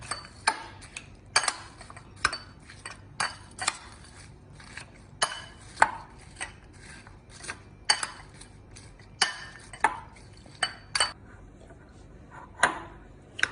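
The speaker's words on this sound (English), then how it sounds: "So mixing it properly so that it gets totally mixed with the dates, the biscuits." Hot dates being stirred and mixed with crushed biscuits for a kids' dessert, heard as irregular sharp spoon clicks and taps against a bowl, fairly close, with no talking.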